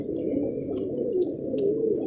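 Domestic pigeons cooing softly, a low murmuring warble repeating over a couple of seconds, fairly faint with a little rustle in the background.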